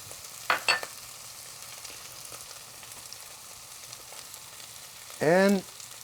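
Dry dill dropped into hot oil for a fava bean stew: a quiet, steady sizzle with soft stirring, broken by a couple of brief clinks early and a short squeak near the end.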